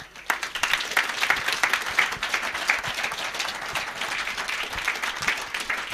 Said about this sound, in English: I'd like to ask another round of applause, please, for Jason, Debbie, Andrew, and Paul